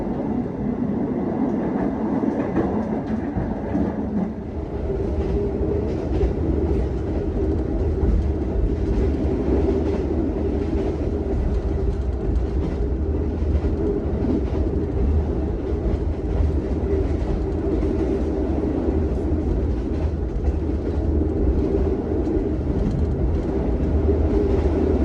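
A train rumbles steadily straight through Semarang Poncol station in Indonesia at close range, a continuous low roar with rattling wheels and clatter lasting throughout, no voices.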